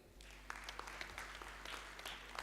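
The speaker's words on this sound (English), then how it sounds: "please clap for Joseph" An audience at a conference claps in quiet, slightly distant applause, a steady patter of many hands over a low hum.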